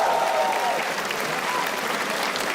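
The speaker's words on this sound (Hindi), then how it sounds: "थोड़ी तालियां हमारे ओपनिंग एक्ट के लिए भी" A crowd at a live stand-up comedy show applauds steadily and fairly loudly for a few seconds, dense clapping with faint cheers mixed in.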